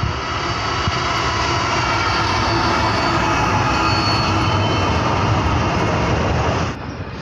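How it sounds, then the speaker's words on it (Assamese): A train rumbles steadily past at close range, a loud continuous roar that holds throughout and drops off slightly near the end. "যাওঁতে এতিয়া দেখিলোঁ ট্ৰেইন"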